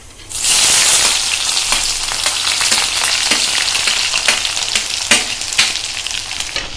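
Onions hit hot oil seasoned with whole cumin seeds, a bay leaf and a dried chili, and sizzle loudly and steadily from up close, with occasional stirring scrapes over the continuous frying hiss.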